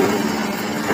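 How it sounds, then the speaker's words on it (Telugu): A 2 HP single-phase electric motor runs on a paper plate making machine, giving a steady close hum with a constant mechanical drone and no change in pitch, heard alone without talk. "2 HP మోటార్ సౌండ్ వినిపిస్తుంది."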